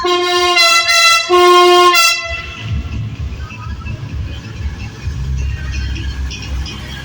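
A loud, harmonic horn from a two-car Izmir–Tire train sounds in two long blasts, then gives way to the rumbling clatter of the train departing nearby.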